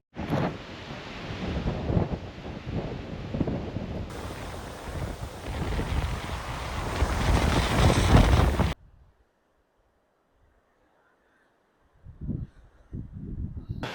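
Strong wind buffets the microphone on an open moorland trail, a loud continuous roar with rumbling gusts for about nine seconds, then near silence before brief gusts return.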